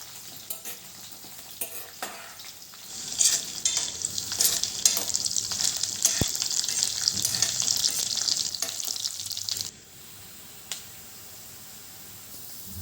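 Carrot-fry vegetables sizzle in a hot pan while being stirred, a steady hiss swelling louder in the middle stretch with scattered scraping clicks of the spoon, then dropping off near the end.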